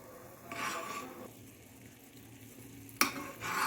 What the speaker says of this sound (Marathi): आणखीन तीन ते चार मिनिट याला व्यवस्थित उकळून घेऊ